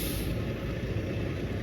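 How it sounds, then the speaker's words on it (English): A truck's air brakes release in a brief, steady hiss of escaping air over a low engine rumble during an alley-dock maneuver, close and unaccompanied by talk. "I heard some brakes being pulled"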